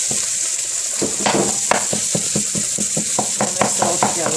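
Fried eggs and onions sizzle in a hot pan while a utensil stirs and scrapes them, a steady frying hiss under a quick run of clicking, clattering strokes against the metal.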